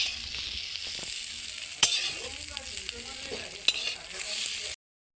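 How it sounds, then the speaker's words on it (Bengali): Egg, onion and coriander frying in a wok, then chow mein, a close continuous sizzle with a couple of sharp utensil clicks, stopping abruptly at the end. "চাউমিনটা কড়াইতে প্রথমে একটু নেড়ে নেব, নেড়ে নিয়ে আলু ডিম দেবো।"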